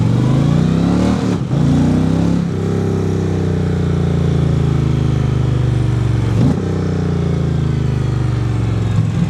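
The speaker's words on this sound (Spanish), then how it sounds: "Este es un motor que te pide más, te pide que lo lleves a altas revoluciones" Engine of a 2025 Indian Chieftain PowerPlus touring motorcycle revving loud and close, a deep sustained drone that dips briefly as the throttle is blipped, then holds high before dropping again near the end.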